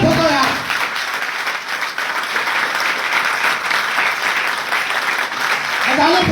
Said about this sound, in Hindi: अरे ताली जोरदार ठोको यार